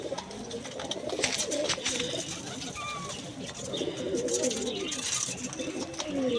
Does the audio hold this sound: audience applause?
no